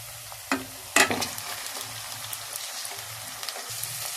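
Meat browns in a pan for aloo gosht, giving a continuous sizzle with a few sharper stirring clicks and scrapes near the start, fairly quiet and with no talking.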